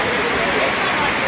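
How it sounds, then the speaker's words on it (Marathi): Silver Cascade waterfall beside the road near Kodaikanal, white water falling as a loud, dense, unbroken roar up close, with a voice talking over it. "रोडच्या लगतच एवढा मोठा हा छान धबधबा आपल्याला बघायला मिळतो."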